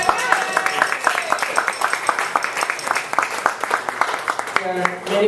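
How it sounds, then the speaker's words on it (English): Applause from the audience at a memorial gathering, a steady patter of individual claps at moderate level lasting several seconds, thinning out near the end. "Let's give yourselves a round of applause."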